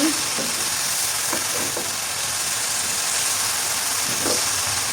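Young red amaranth greens go into a pan of hot oil with dried fish, giving a steady broadband sizzle with a few soft clatters and stirring sounds, close and fairly loud, with no talk.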